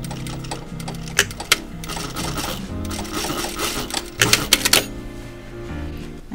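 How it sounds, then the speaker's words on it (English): A sewing machine stitching a dog harness runs in a steady rattling whir, with a few brief louder clacks partway through and again near the end, close and continuous with no talk. "I will sew until here. So I will go and sew from there down."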